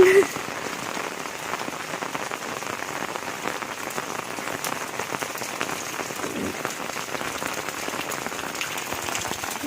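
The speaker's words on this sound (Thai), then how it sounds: "ฝนก็ตก ก็ตกแบบนี้ทั้งวันนะเนาะ" Steady rain pattering on a surface, a dense crackle of drops that continues evenly throughout.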